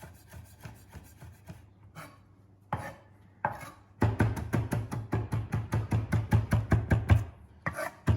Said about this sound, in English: And we're going to add some chopped parsley.